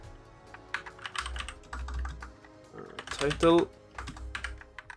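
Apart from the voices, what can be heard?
typing code on a computer keyboard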